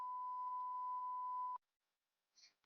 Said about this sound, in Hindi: तो इसमें बीप आ रहा है,